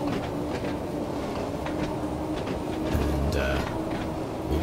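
Isle of Wight train in Train Sim World 2 running slowly on rails near Shanklin station, a steady low rumble with faint rhythmic clatter and a brief louder squeal near the end, under a quiet voice.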